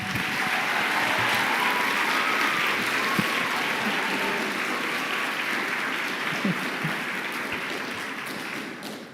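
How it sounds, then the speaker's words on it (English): A crowd claps steadily, a dense wash of applause that holds for several seconds before easing slightly. "So how about a round of applause for him?"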